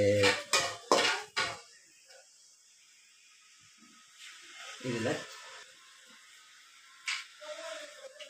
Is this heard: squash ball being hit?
no